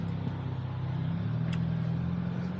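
A Hyundai Elantra N idles steadily while warming up, a low, even engine hum heard from inside the car with a brief click partway through.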